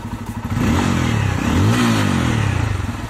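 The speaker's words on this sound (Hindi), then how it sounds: "थोड़ा थ्रॉटल देते हैं इसको" Bajaj Pulsar F250 motorcycle engine, a 2023 model, revved close by: a throttle blip climbs and falls, then a second longer rise and settle, with a mechanical clatter under the exhaust note and no talk.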